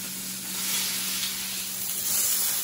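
A beef shoulder sears in a hot pan with loud, continuous sizzling and crackling fat, a bright steady hiss close up with no one talking.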